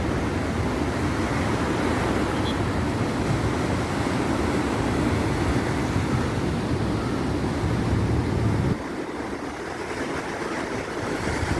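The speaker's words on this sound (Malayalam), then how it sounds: "കടൽ കയറിയിരിക്കുകയാണ്." Rough sea surf at Kovalam beach makes a continuous, loud roaring wash that covers everything, with the crash easing slightly near the end, close by and with no voices.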